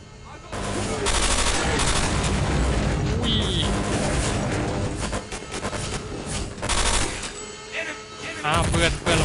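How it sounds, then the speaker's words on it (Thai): Dense, loud gunfire from Counter-Strike: Condition Zero, with rapid automatic bursts and heavy shots filling nearly the whole stretch while a voice talks over the battle. "ยิงไม่ค่อยแม่นเลยปืนนี้"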